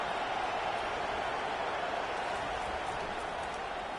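Home crowd at a Georgia football game, a dense, steady roar of cheering and noise filling the stadium without letup.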